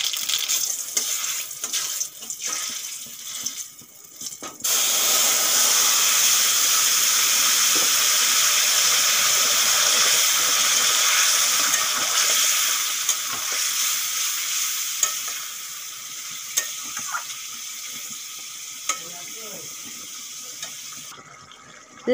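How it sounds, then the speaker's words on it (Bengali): Radhuni seeds and a bay leaf hit hot oil with a sudden loud sizzle that stays steady and bright, then slowly fades, after a few seconds of clattering stirring and kitchen noises. "তেল গরম হয়ে গেছে, ফোড়নে দিয়ে দেবো আমি রাঁধুনি আর একটা তেজপাতা।"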